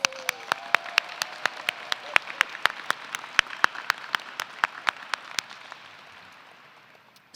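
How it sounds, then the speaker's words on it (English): A convocation audience greets the provost with applause, heard as distinct claps spread across a large space that gradually thin out and fade away. "Let's also give our fabulous provost a big round of applause."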